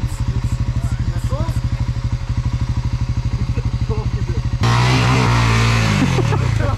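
A quad bike engine on an enduro ride idles with a steady rapid thumping pulse, then revs hard into a louder, rising roar, close and loud.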